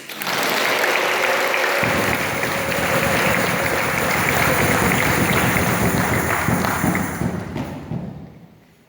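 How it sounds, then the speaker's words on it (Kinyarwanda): A church congregation bursts into loud, sustained clapping that swells quickly, holds as a dense roar of many hands, then tapers off and fades out near the end. "Ko mudamuha amashyi"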